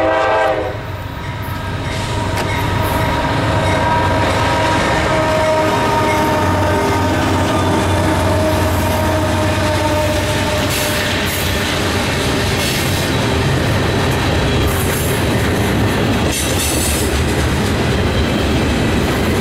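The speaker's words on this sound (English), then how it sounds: "344 and 55, pulling a northbound freight train" A CSX northbound freight train hauled by GE AC44CW locomotives 344 and 55 rolls past near Big Oak Road on the Virginia-Tennessee border. It makes a loud, sustained rumble with horn blasts and clattering wheels, and no one speaks.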